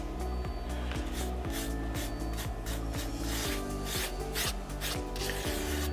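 A paintbrush works asphalt texture paint onto foam, giving a continuous close rasping, scratchy rub with repeated brush strokes and no talking.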